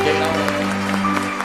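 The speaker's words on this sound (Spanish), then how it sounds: "Un fuerte aplauso para ellos entonces." Applause from a congregation during a live Mass at San José Obrero parish church, a steady broadband clatter of clapping with a faint tonal hum underneath, lasting the whole moment.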